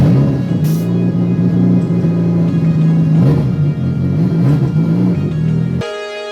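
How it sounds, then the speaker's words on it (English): A car engine idling and revving in a home garage as cars are shuffled around, a loud close rumble with shifting pitch, ending in a steadier lower hum. "let's start moving cars around"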